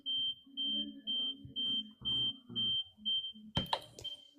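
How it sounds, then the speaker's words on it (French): A home alarm beeps in a steady rhythm of short, high, shrill pulses about every half second. Indistinct speech runs between and under the beeps, and a sharp knock comes near the end. "c'est chez toi la sonnerie?"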